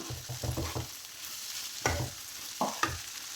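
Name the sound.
stirring grated coconut into frying moong dal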